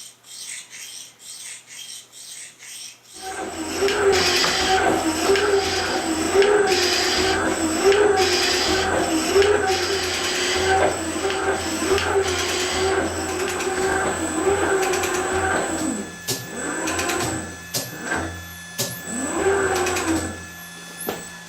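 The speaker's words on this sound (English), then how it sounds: "We're using a carborundum stone and just hone the edge" A carborundum stone lightly hones the edge of a straight razor blank, making steady rasping, rubbing strokes that run continuously for most of the stretch and break into shorter separate passes near the end, close and fairly loud with no talk.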